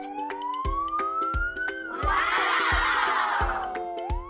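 A toy police car siren wails in a rising and falling tone, joined partway through by a warbling siren layer, while sharp clicking knocks repeat irregularly underneath.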